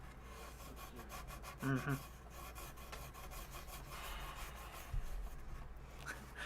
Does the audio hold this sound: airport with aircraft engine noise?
no